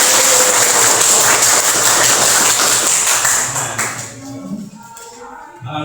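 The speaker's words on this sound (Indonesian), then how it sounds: "bagus, tepuk tangan." Classroom of students clapping together, a dense burst of applause for several seconds that thins out and stops near the end, followed by quieter room sounds and a voice.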